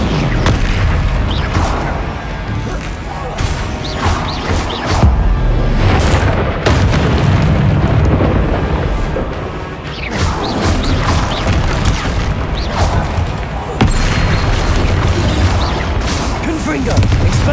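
Confringo and Incendio spells blast in Hogwarts Legacy combat, a dense barrage of loud booms, crashes and fiery bursts in quick succession, with a voice speaking over the din.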